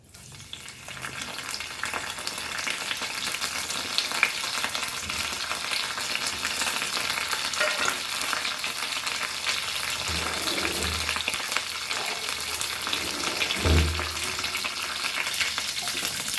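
Curry leaves and methi (fenugreek) seeds frying in hot oil for a Goan sardine curry without coconut, a loud continuous close sizzle with occasional stirring knocks and clatter, no voices.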